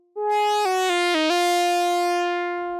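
Synth run through a colour box with a little gain, giving a saturated, bright, buzzy sustained tone that moves through several quick pitch steps before holding a long note alone.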